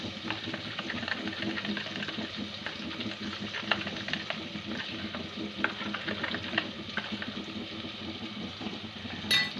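Spice masala is stirred in a cooking pan for potato and spinach sabzi. A quiet, continuous scraping and shuffling runs throughout, with soft clicks and taps scattered irregularly and no one speaking.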